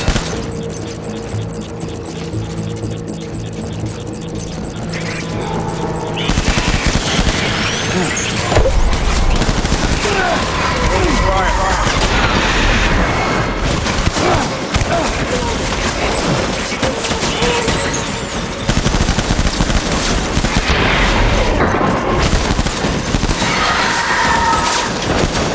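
Gunfire in the video game Death Stranding: dense, continuous bursts of shots and booms layered over rumbling vehicle engine noise, loud and sustained throughout, with a voice speaking now and then.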